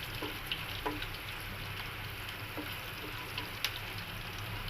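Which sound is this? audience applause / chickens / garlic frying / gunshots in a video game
garlic frying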